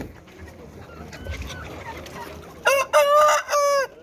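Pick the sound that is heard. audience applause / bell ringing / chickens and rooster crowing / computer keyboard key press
chickens and rooster crowing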